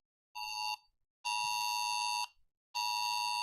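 A National Weather Service flash flood warning alert tone: three loud, piercing electronic tone bursts, one short then two longer, separated by brief silences.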